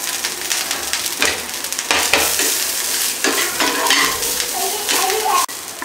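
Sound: coconut being roasted and stirred in a pan

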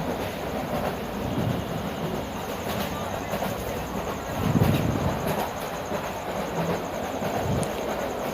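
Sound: Burimari Express train passing through Kahalu railway station

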